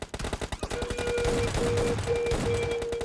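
Gunfire from a Groza rifle and S12K shotgun in the mobile game PUBG Mobile Lite, opening with rapid sharp shots and settling into a dense continuous burst of automatic fire with a faint tonal hum.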